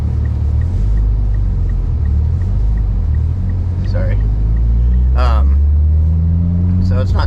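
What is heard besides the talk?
Mitsubishi Evo X car driving in snow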